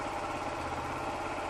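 A motorcycle or moped engine idles steadily after starting, a close continuous low rumble with no voices over it.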